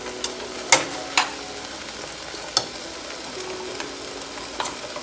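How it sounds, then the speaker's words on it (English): Browned ground beef for chili sizzles softly and steadily in a pan, broken by a few sharp spatula clicks and scrapes, with no talking. "we are back over to our ground beef, which we have browned beautifully"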